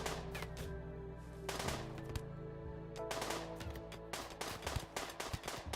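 Rapid bursts of video game gunfire crackle loudly and repeatedly, with clusters of shots and brief pauses between volleys, in a colony strategy game battle.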